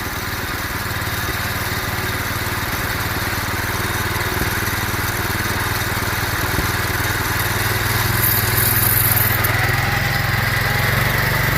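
A lawn tractor engine converted to run on propane and used to power a go kart drones loud and steady throughout, with a slight rise in pitch and level near the end.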